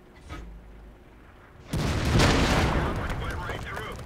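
A heavy tank cannon shot in World of Tanks, bouncing off an IS-2's armour, lands as a loud sudden boom with a long rumbling tail, preceded by quieter game ambience.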